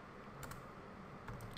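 Typing on a computer keyboard, a short run of soft, steady key presses with a couple of sharper clicks, close and alone over a light room hiss.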